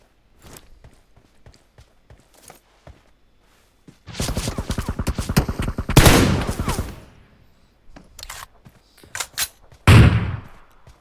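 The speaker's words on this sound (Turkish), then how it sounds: "Mermi harcayayım biraz." Rapid automatic gunfire from the PUBG Mobile video game, with scattered single shots early on, then dense sustained bursts around the middle and a final loud burst near the end, fairly close and loud.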